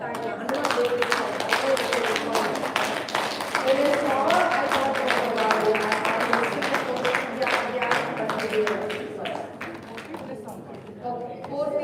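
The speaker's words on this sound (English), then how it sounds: "Let's clap for that time." Group clapping at a live meditation-style gathering, dense and steady hand claps filling the space for about ten seconds, with voices talking faintly underneath before the clapping thins out near the end.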